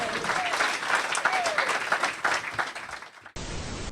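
Comedy show audience breaking into applause, a sustained wash of clapping that swells and fades over several seconds before cutting abruptly to a burst of noise.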